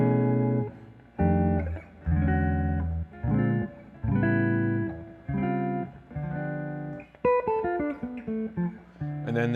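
Solo guitar plays a chord-melody arrangement of the second phrase of a song, with separate ringing chords held a second or so each, then a quicker run of notes at the end, close and clear without speech.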